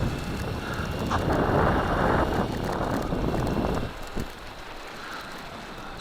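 WLToys P949 RC tractor monster truck driving at Mirror Lake at quarter throttle, a rough rumbling whir of motor and tires over the ground, loud and close for several seconds before easing off; no voices.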